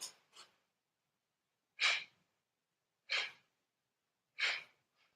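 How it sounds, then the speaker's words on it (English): Yoga breathing in a gentle class, a few soft close breaths followed by three long, evenly spaced exhales, each breathy rush rising and fading, with silence between them and no speech. "As I exhale, I draw my belly back towards my spine"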